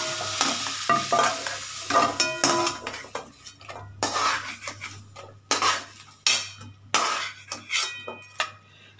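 Vegetables for a prawn curry with potato, cauliflower, pumpkin and capsicum fry in a pan, with close sizzling under repeated loud scrapes and clinks of a spatula against the metal pan.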